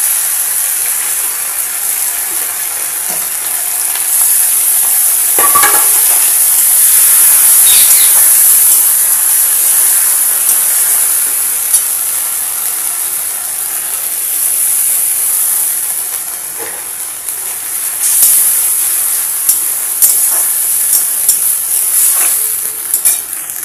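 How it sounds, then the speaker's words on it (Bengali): Ground paste of ginger, cumin, garlic and green chili frying with browned onions for a Bengali snakehead fish curry, a steady close sizzle with scraping and stirring clatter throughout, no talking. "এবার আমার বেটে রাখা মশলাটা দিয়ে দেবো। আদা, জিরে, রসুন,"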